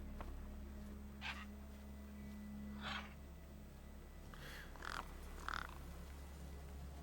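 Crows caw in short, separated bursts around a corpse in the video game Beyond A Steel Sky, four or five moderately close calls over a quiet, humming game backdrop.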